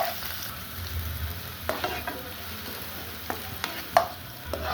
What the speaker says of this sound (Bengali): হালকা পেঁয়াজটা একটু ভাজবো।